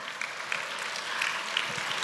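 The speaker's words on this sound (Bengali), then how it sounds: "একটা জোরদার করতালি হয়ে যাক।" An audience at a Kathak dance stage performance claps steadily, a dense crowd applause that holds at an even level for the whole moment without any voices.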